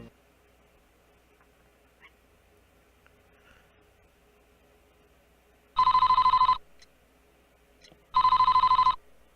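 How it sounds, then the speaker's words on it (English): Two bursts of an electronic telephone ring in the Famicom Detective Club game, each a buzzy trill under a second long, about two seconds apart over a faint quiet background. "Oh, the phone."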